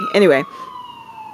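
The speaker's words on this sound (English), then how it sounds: "you can hear the fire truck outside maybe." A fire truck or ambulance siren outside: a thin, steady wail drifts faintly in the distance after someone speaks briefly over it indoors.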